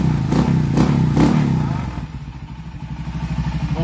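Honda 67 motorcycle with a muffled, quietened exhaust idling and revving up close; a few throaty blips give way to a steady, soft, pulsing putter near the end.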